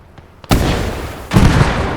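Panzerschreck rocket striking a tank in the WWII game Gates of Hell, a sudden loud blast followed by a second booming impact a moment later, both rumbling on.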